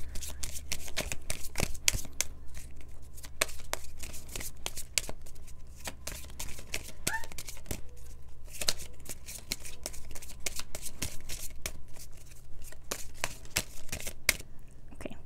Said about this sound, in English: I'm just gonna pull some cards